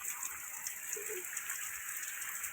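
Heavy rain falls in a rural outdoor setting, a steady dense hiss of drops with no letup, moderately faint and even throughout.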